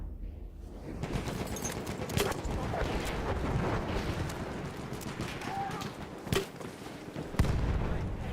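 Battlefield 1 gameplay roars with dense explosions and rattling gunfire, a loud continuous barrage with heavy booms bursting through, under faint talk.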